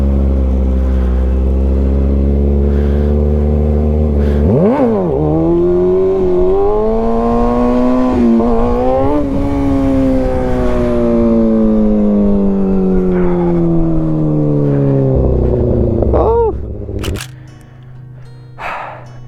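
Motorcycle engine revving hard through wheelies, loud and close, with sustained high revs that rise and fall in pitch, throttle blips and surges, then a sharp drop-off near the end.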